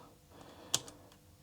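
Keys tapped on the built-in keyboard of an Amstrad NC100 portable computer: one crisp key click stands out amid a few softer taps, all quiet and close with no talking.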